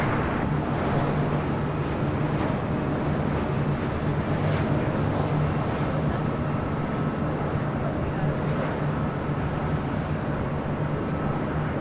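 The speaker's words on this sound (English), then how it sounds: "Love the landings of A330s." An Airbus A330 heavy jet lands on runway 24 at LAX, its broad, steady engine roar holding continuously at moderate distance for the whole stretch.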